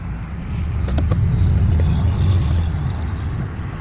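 Traxxas Mini Rally Ford RS200 RC car driving, a continuous whirring motor and tire noise that swells and eases over a few seconds, close by and with no talk.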